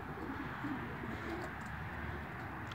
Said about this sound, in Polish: No i gołąbki czekają. Głodne.